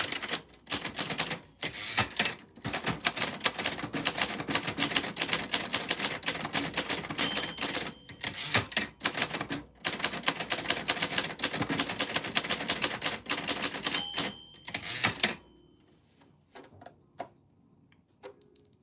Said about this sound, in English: this is typewriter ASMR